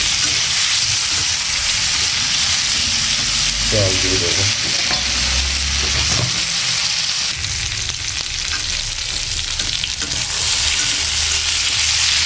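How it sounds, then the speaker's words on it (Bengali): Dried fish curry with turmeric, cumin powder and spices fries loudly in a pan, a dense continuous sizzle with stirring scrapes, and a brief spoken remark partway through. "একটু সামান্য ভাজা হয়ে যাক"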